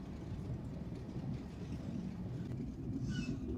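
The 793 Panchagarh Express passenger train in Bangladesh runs with a continuous deep rumble and low rattling of its carriages, steady throughout, with a faint higher squeal near the end.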